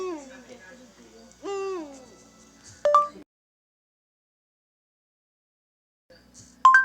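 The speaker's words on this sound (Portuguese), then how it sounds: "A coruja faz assim" An owl's hooting plays from a phone assistant's speaker in a few sliding, wavering calls, followed by a sharp electronic chime, a long silence and another chime.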